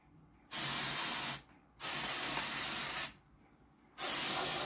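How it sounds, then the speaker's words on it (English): L'Oreal Colorista Rosegold spray hair colour sprayed onto a synthetic wig in three long, loud hissing bursts separated by short pauses, close to the ear with no talking. "I'm going to go ahead and give it a spray."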